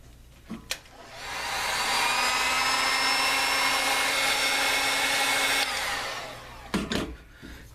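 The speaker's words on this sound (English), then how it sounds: "Try not to hit the battery with a heat gun while you're doing this." A heat gun runs for several seconds while shrinking heat shrink tubing over DNA 200 box mod wiring, a steady loud blowing whine with a constant pitch, preceded and followed by a few short handling clicks.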